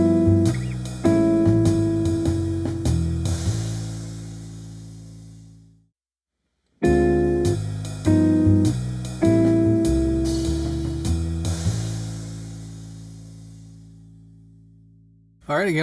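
Jazz guitar playing a backdoor ii-V chord progression: a series of ringing strummed chords and single notes, played through once, briefly silent, then repeated, loud and close.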